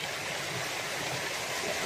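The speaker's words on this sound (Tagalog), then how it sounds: "So itong tubig na to ay sa irrigation." Water rushes steadily along an irrigation channel feeding rice paddies, a continuous broad hiss and gurgle, close and even throughout with no voices.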